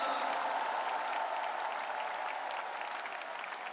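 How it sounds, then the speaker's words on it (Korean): Sustained applause from a large audience at a political party convention, steady clapping throughout with a dense, even texture and no voices standing out. "박수 한번 부탁드립니다"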